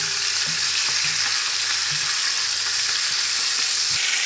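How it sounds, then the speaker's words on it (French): Onions frying in a pan for a chicken-and-rice dish, a steady close hiss of sizzling oil with occasional soft scrapes and stirring knocks, no voices. "Les oignons, je vais laisser frire encore avec les oignons."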